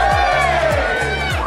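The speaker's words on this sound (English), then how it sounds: "the Queen, Doña Maria Isabella the First, greeted now with a mighty cheer" A large crowd in a Medieval Times dinner-and-tournament arena roars in a sustained, loud cheer with whoops and shouts, filling the whole moment without a break.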